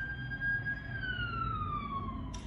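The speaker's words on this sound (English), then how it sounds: "I know y'all hear that. Those sirens." Emergency siren wailing at a distance, a single steady tone slowly falling in pitch over low traffic rumble, fairly faint and uninterrupted, with no talk.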